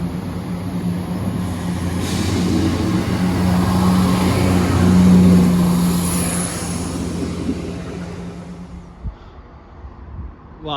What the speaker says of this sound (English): here comes the 937 East Midlands Railway service to Crewe from Newark Castle